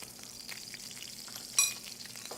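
Red snapper fries in hot oil in a pan, giving a steady close crackle and sizzle with one brief sharp clink partway through.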